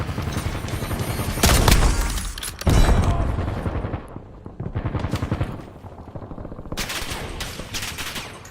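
Heavy video game firefight with bursts of automatic gunfire, booming blasts and a grenade, loud and close, with rapid volleys that pause briefly then resume.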